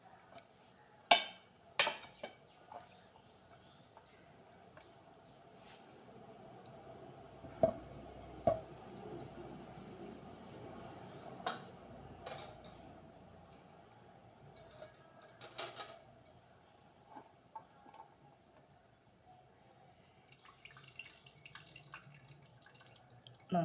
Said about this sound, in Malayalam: നമുക്ക് ഇതിനകത്തു നിന്നുള്ള നീരങ്ങ് പിഴിഞ്ഞൊരു പാത്രത്തിലോട്ടാക്കി എടുക്കാം